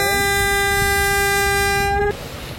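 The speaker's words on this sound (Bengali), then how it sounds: "তো ওই ট্রলারটি একদম লঞ্চের সামনে আসতে নিয়েছিল, যার কারণে লঞ্চটি হুইসেল দিল।" The passenger launch MV Sundarban-12 blasts a loud, steady horn on its river run from Jhalakathi to Dhaka. One sustained tone holds for about two seconds and then cuts off, leaving engine and river rumble.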